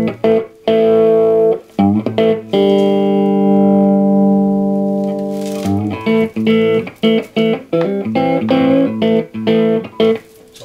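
A loud, heavily distorted electric guitar plays chugging chords and a long sustained chord through the overdrive channel of a modified Peavey Classic 30 amp, with a gritty, saturated tone.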